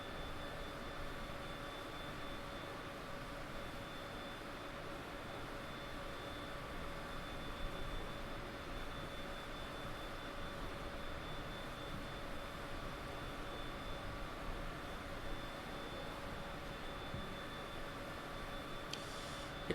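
Steady, droning airliner engine noise in a flight simulator game, a continuous broadband roar with a faint whine held evenly throughout, with no voices over it.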